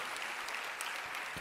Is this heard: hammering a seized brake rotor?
no